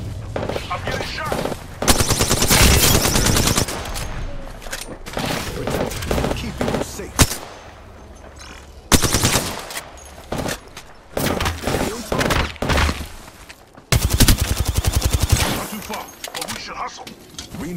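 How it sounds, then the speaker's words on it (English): Rapid bursts of automatic gunfire and impacts in the Apex Legends video game, loud and dense in repeated volleys separated by brief lulls, with a player talking at times. "I'm getting shot."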